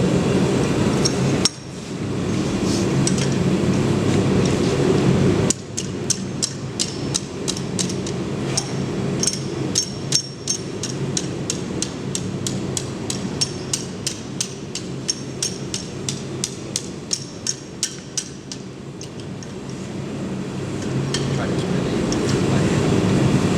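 Rapid metallic hammer strikes on a hot metal rod being bent with a bending fork ring out in a steady rhythm, sharp clinks repeating over a loud, continuous background roar.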